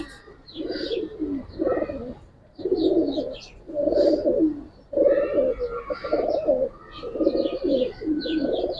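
Giribaz pigeons coo inside a cage, a male among them, with repeated throaty rolling coos in uneven bursts close by, soft chirps scattered on top.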